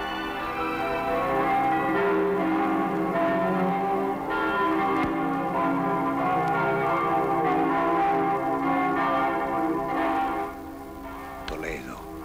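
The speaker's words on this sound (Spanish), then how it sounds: "Al sonar de su campana, sabe hablar al corazón" Church bell of the Toledo cathedral ringing with rich, sustained overtones beneath a singer and music, the layered tolling continuing steadily before fading near the end.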